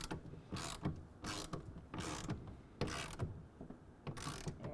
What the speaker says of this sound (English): take a 1/2 inch wrench or ratchet and snug that